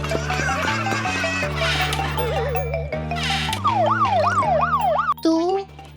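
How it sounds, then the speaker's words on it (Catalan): Police car siren in a children's cartoon, a wailing tone that swoops up and down in fast repeated cycles over bouncy background music, loud and close, ending abruptly. "cotxe de policia."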